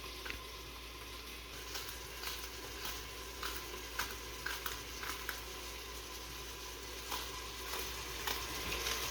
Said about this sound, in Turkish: sıvı yağımızı koyduk. Bir tane orta boy soğanımızı kavuracağız.